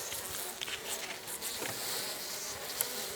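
A honeybee colony clustered against the front wall of the hive gives a steady, dense buzzing hum, close and continuous, with a few brief sharper flickers of individual bees passing.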